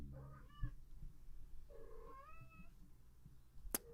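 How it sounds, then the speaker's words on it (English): A house cat meows twice into a nearby microphone, a short call and then a longer rising one, both fairly soft against a quiet room with a small click at the end. "See if I can get her to meow into the mic."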